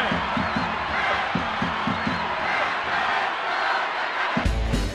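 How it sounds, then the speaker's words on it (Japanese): A large stadium crowd in the video game J.League Winning Eleven '97 roars and cheers continuously after a goal in Cerezo Osaka vs JEF United Ichihara, with rhythmic chanting and drumbeats pulsing underneath. "声援鳴りやます"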